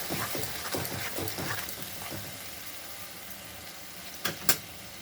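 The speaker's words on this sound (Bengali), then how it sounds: "এখন দিয়ে দেবো 4টে বড় টমেটো পেস্ট, এখন গ্যাসটা বাড়িয়ে দেবো" Tomato paste sizzles in hot oil in a pan over a raised gas flame, a soft, steady hiss with a few clinks of utensil strokes, and no voices.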